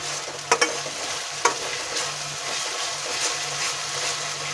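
Ginger garlic paste sizzles in a pan while being stirred, a continuous soft frying hiss with a few sharp clicks of the spoon early on, close and moderately quiet.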